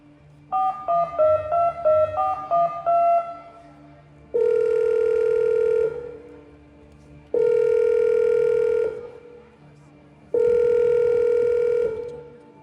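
A phone dials a quick string of tones, then a ringback tone sounds three times in long, evenly spaced rings with no answer.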